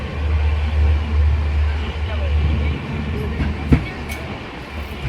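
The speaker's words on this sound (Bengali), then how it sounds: "কলকাতা তেভাগা এক্সপ্রেস গঙ্গারাম গাজল রেল স্টেশনে ঢুকছে।" The Kolkata Tebhaga Express, running with LHB coaches, pulls into Gazole railway station with a deep, heavy rumble and occasional clanks, under ongoing talk nearby.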